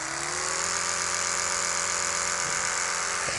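An Oral-B electric toothbrush runs continuously at close range with a clunky, buzzing whir that holds steady throughout and has a faint knock near the end.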